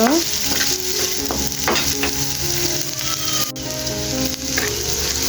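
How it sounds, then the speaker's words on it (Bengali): Onions sizzle steadily as they lightly fry in a hot pan, with occasional scraping stirs; no one speaks. "এই তো পেঁয়াজগুলো বেজে নিচ্ছি"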